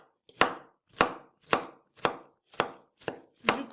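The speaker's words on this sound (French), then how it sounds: "Je coupe grossièrement parce que je vais tout mixer." A knife coarsely chopping parsley and a garlic clove on a board, seven sharp, evenly spaced thuds about half a second apart, close and clear against near silence.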